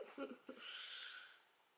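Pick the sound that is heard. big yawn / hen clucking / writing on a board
big yawn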